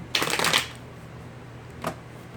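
A quick riffle of tarot cards being shuffled, a half-second burst of fluttering, then quiet and one more soft card snap.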